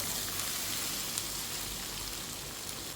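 Potato and long beans stir-fry in coconut oil in a pan, a steady, dense sizzle that holds evenly throughout with no voices.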